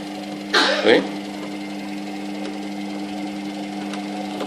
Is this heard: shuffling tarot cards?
no